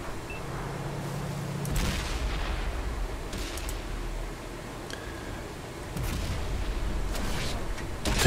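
Tank cannon fire in World of Tanks, with a T32 fighting on the Redshire map: several heavy booming shots spaced a few seconds apart over a constant rumbling engine and battle background.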